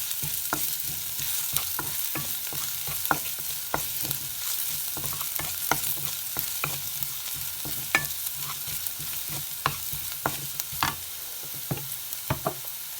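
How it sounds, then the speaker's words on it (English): Ginger sautés in a hot pan for momo filling, giving a steady soft sizzle throughout, punctuated by frequent sharp clicks and scrapes of a spoon stirring against the pan. "I am adding the ginger. And also I will saute it for 5 to 10 seconds."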